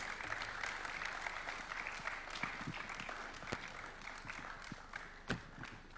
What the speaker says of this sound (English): as we give them a round of applause.